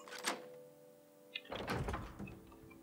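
A door in the Morrowind video game slides and closes with a soft scrape, then a louder thunk after a short pause, followed by a brief rustling tail, heard alone and fairly close.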